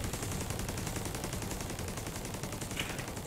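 Rapid, continuous gunfire from The Division 2 shooter game, a dense rattling barrage that holds steady at even loudness through the whole stretch with no pauses and no talk over it.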